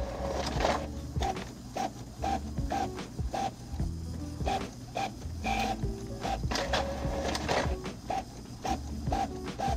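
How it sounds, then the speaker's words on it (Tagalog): An Epson L5290 ink-tank printer runs off copies continuously, a steady, close mechanical rhythm of repeated clacks, rubbing paper feed and whirring with no speech. "Pero kapag katuloy-tuloy naman yung kanyang print, ayan o, mabilis naman siya."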